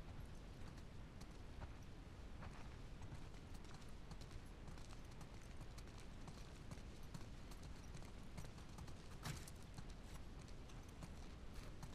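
Horse hooves clip-clop steadily and close in The Last of Us Part II, set against a dense, continuous outdoor wash with an occasional louder thud near the end.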